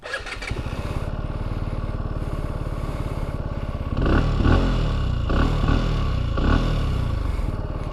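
A 2021 Benelli TNT 135 motorcycle cranks briefly and starts, settles into a steady close idle, then revs sharply several times before dropping back to idle between the blips.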